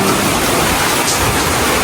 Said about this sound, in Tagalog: umulan na po ng malakas. Grabe. Pakalakas po ng ulan.